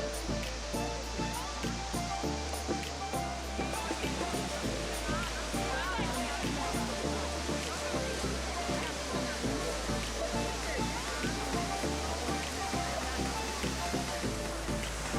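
Roaring water at the Great Waterfall in Plitvice Lakes National Park, a steady dense rush of falling water heard up close and loud throughout, with a voice speaking over it.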